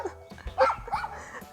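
Dogs barking outdoors in a few short, mid-distance yaps and bow-wows, with a slight whimpering tone, standing alone with no talk over them.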